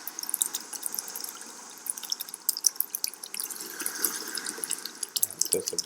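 Ocean waves sound effect playing in the Unity game engine, a steady wash of watery noise with scattered drip-like crackles, moderately loud and continuous throughout.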